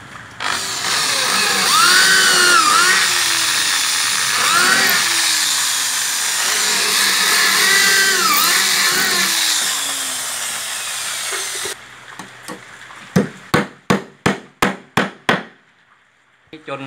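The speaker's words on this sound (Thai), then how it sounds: "เราก็ เจาะรูเลยครับนำตะปูนะครับ" A power drill bores holes in wooden formwork for a concrete column, whining loudly for several seconds with varying pitch, followed by a rapid run of sharp hammer strikes driving nails into the timber.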